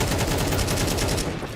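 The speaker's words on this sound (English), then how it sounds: "comes up, peeking the angles, and ends up shooting Obama" Rapid gunshots from Counter-Strike 2 on the de_vertigo map, a quick string of evenly spaced cracks that fills the short moment, loud and close, with no voices.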